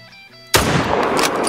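A single loud rifle shot fired at a piebald alligator in the hunting game Call of the Wild cracks suddenly after a quiet moment, followed by a booming, reverberating tail.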